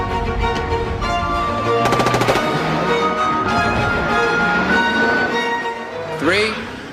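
Rapid bursts of gunfire crackle through a busy, dense mix during an action scene shoot for a BMW film, with staccato shots clustered in the middle and a continuous wash of other sound around them.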